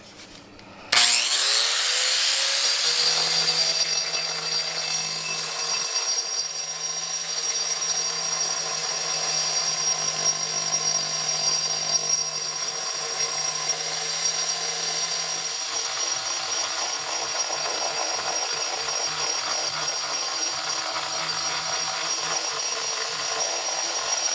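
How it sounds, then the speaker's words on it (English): A grinder runs steadily and loudly for over twenty seconds, smoothing the rock matrix around a large fossil needle fish, with a continuous high whine and gritty abrasive rasp and no talking. "So I'm simply going to take my grinder."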